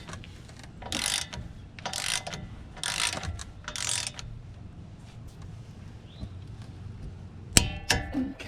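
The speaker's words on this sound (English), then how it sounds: "Now we gotta torque these 133 foot-pounds, which is quite a bit." Torque wrench ratcheting on the front brake caliper bolts of a GMC Canyon in a garage, in four steady bursts of clicking about a second apart, followed by a couple of sharp metallic clanks.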